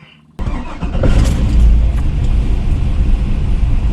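A car engine with a new starter cranks briefly and catches, settling into a loud, steady rumbling idle up close.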